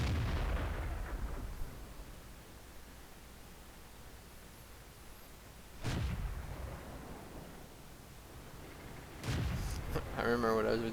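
In a tank video game, a T21's gun fires as sharp booms at the start and again near six and nine seconds. Each shot rolls off into a long rumble over a steady static-like background.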